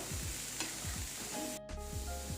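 Three medium chopped onions sauté in hot sesame oil with fennel seeds, a steady sizzle close up broken by rhythmic scraping strokes of a stirring spoon in the pan.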